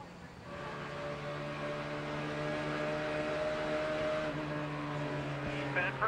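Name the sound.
race cars heard from in-car camera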